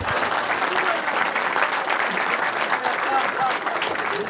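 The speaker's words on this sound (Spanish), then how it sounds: "Aplaudan, por favor." An audience at a business event applauds in a full, steady burst of clapping that stays loud and close for several seconds, with some voices mixed in.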